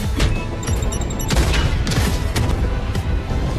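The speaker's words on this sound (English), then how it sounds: "The blast is massive, but it doesn't break the swarm's momentum." A massive movie explosion as charges detonate inside a monster swarm: a dense, roaring broadband blast with crackling, gunfire-like bursts and rumbling debris that stays loud for several seconds, with no voices.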